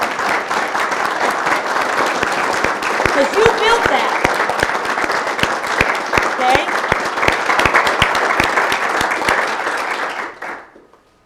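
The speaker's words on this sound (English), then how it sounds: "I actually want everybody to give themselves a round of applause" A large conference audience applauds loudly and steadily for about ten seconds, the dense clapping filling the room before fading out, with a voice speaking briefly under it.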